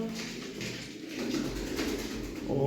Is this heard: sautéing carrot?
no